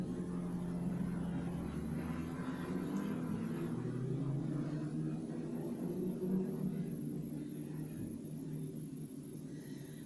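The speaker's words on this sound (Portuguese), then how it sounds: "Obrigada, helicóptero." A helicopter flying overhead produces a steady, low rotor rumble that holds throughout at moderate distance, with some faint background talk.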